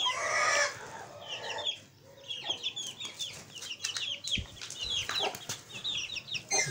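Aseel chickens with a chick, clucking and calling close by in a coop setup. Bursts of busy clucks and short cries come and go unevenly against a quiet background, with no talking.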